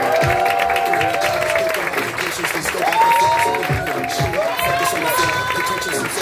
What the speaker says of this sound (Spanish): Quiero un fuerte aplauso para Caco Araneda.